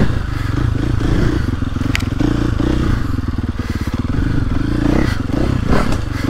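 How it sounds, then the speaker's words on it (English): A KTM 450SXF four-stroke dirt bike rides a woods trail, its engine chugging and revving steadily up close, with scrapes, clatter and thumps from the rough ground. "it's a big old 450 full-on motobike"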